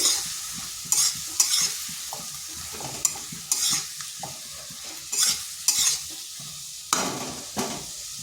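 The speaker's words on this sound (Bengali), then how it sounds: "ধনে গুঁড়ো আর কাশ্মীরি লঙ্কার গুঁড়ো একটু ভালোভাবে মশলাটা কষে নিচ্ছি" Cumin, coriander and Kashmiri chili powder masala is sautéed in a pan for a yardlong bean and masoor dal dish. A low sizzle sits under repeated spatula scrapes and knocks that come in irregular bursts.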